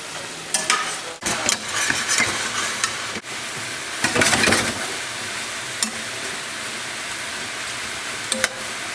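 Garlic sizzles in a hot pan for a stir fry alongside mushrooms, a continuous crackling hiss broken by bursts of stirring and scraping, close and fairly loud.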